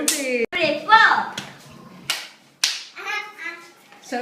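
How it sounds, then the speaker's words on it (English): Children playing a hand-clapping and tapping rhythm game, with a few sharp claps and taps spaced through the clip under children's voices talking and chanting nearby. "So it goes tap, click, clap, tap, tap, click, clap"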